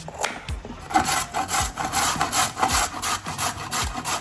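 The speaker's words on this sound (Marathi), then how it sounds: "ह्या पद्धतीने आपल्याला हे सगळं गाजर अगोदर किसून घ्यायचं." Carrots for gajar halwa are grated by hand in a steady run of rasping strokes about twice a second, close and alone.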